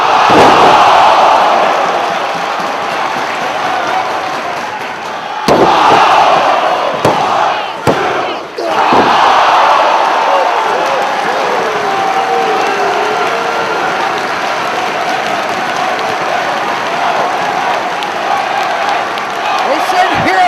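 A packed crowd at a 2006 Ring of Honor tag-team wrestling match roars and chants continuously, with several sharp ring slams and thuds cutting through; a commentator talks over the din.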